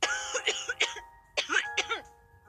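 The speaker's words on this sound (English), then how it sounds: "starts coughing heavily. Her hand hastily goes to her mouth and stifle the sounds." A woman coughs heavily in several harsh, rapid bursts, two clusters separated by a brief pause, close and loud with a throaty rasp.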